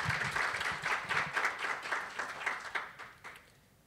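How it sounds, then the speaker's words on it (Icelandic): Applause from a conference audience at an Icelandic youth research event, a moderate crowd clapping with distinct rhythmic pulses that gradually fade toward the end. "Gefið henni gott klapp aftur."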